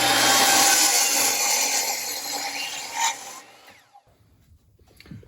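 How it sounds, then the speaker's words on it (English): A drill press drilling wood grinds loudly and steadily for about three seconds, then winds down and stops, leaving near silence with a faint clatter. "And we're going to use a drill press for that."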